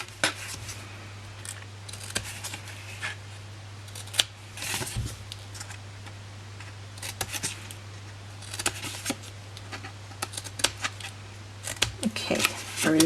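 Scissors snip small notches into paper gift tag flaps, a series of short, crisp cuts at close range with pauses between them, over a steady low hum, while a person talks quietly in places.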